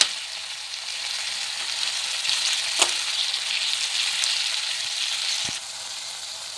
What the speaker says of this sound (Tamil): இப்போ நம்ம அந்த கீரையும் சேர்த்து வதக்கிடலாம்.